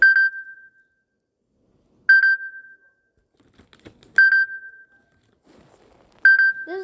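A phone ringtone made of short electronic beeps, four clear, evenly spaced tones each about two seconds apart, with faint handling noise between them.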